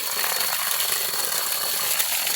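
Strong jet of water rushing from a pipe at a forest water source, a steady hissing gush with faint rattles under it and no talk.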